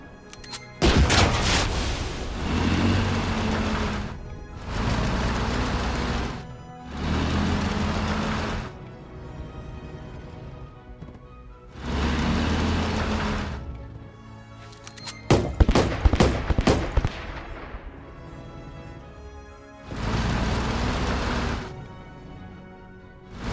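Autocannon bursts in the turn-based game Headquarters: Cold War come as repeated loud, rapid volleys lasting a couple of seconds each, separated by short quiet gaps, with one sharper crackling barrage midway.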